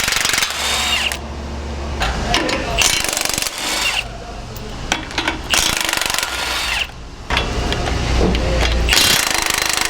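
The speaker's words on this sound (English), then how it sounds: "we can start to get on to removing most of the lower control arm and steering bolts" Power tool, such as an impact wrench, removing lower control arm and steering bolts on a 2021+ Ford Bronco: loud rattling hammering bursts of a second or two with short pauses, close and harsh, with faint background noise.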